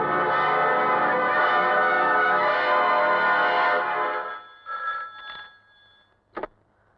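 A telephone rings loudly with a bright, sustained bell tone that stops, then a few brief clicks and a short final chirp as the receiver is picked up.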